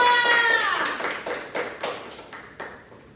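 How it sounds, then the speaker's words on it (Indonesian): A seventh-grade class claps hands in a few separate bursts after a tonal ringing opening, each clap sharp and decaying, loosely rhythmic and moderately close. "Tepuk tangan dulu buat kita semua."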